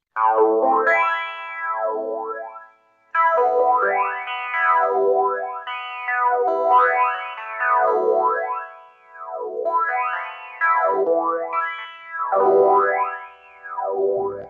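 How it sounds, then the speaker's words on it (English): Two filters sweep slowly across each other, producing a phaser-like whooshing swirl: repeating rising and falling sweeps on a sustained, harmonically rich tone, steady and prominent with a brief drop near the third second, no voices. "Take two filters and just very slowly just sweep them across each other, and you get a phaser sound."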